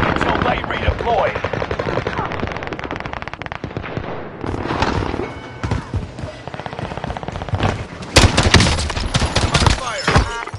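Dense rapid gunfire and bursts in the Warzone video game, continuous crackling volleys layered over one another, loud and close, with a spoken voice briefly in the mix.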